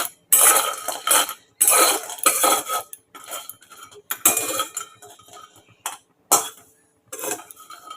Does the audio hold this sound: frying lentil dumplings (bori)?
yes